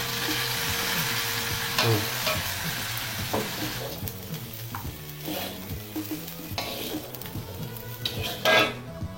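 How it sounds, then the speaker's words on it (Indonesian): Tempeh frying with spices in a pan with steady sizzling, occasional stirring scrapes and clinks of a utensil against the pan, close up and continuous. "sekarang kita akan tumis bumbunya. Kita masukkan tempenya ya."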